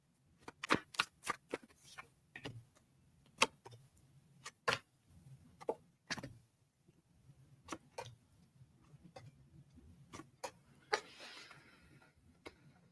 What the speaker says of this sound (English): So while I'm shuffling for my tarot cards